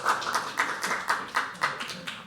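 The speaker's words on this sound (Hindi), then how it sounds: "पहले हम इन दोनों के लिए तालियां बजाएंगे। इन दोनों के लिए तालियां बजाओ।" Audience clapping for two performers at a live poetry open mic, a steady rhythmic series of claps, fairly close and even, with no talking over it.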